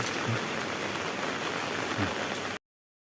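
Steady rain pouring down, a dense continuous patter filling the whole clip at close range, then cutting off abruptly.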